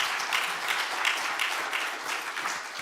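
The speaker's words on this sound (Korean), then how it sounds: "aplauso a ellos." A church congregation applauds a family, steady dense clapping that holds evenly throughout, moderately distant and without talk.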